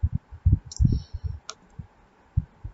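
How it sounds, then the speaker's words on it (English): A single sharp computer mouse click snaps out near the middle, set among low murmuring voice-like thumps and faint background hum. "Click apply."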